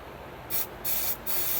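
Penetrating oil hisses from an aerosol can onto a stuck truck brake bleeder screw in three short close bursts separated by brief pauses, with no talking during the spraying.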